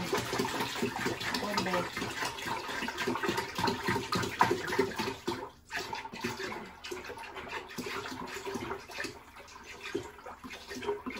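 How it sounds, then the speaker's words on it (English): Orange juice pouring into a bowl of Jamaican rum punch, a steady splashing liquid stream that runs for several seconds amid busy kitchen background noise. "Orange juice pour"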